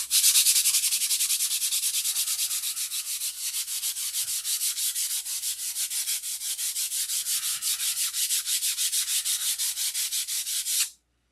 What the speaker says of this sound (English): We want to finish sand these.